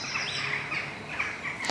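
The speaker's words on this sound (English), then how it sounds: "listening to the birdsong" Birds chirp and warble outdoors in a quiet natural spot, several bright overlapping calls rising and falling against a soft background.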